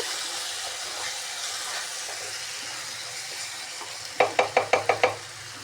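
Mushroom curry frying in oil in a pan, a soft steady sizzle, then about six quick, close spoon knocks against the pan as it is stirred near the end, with no talking.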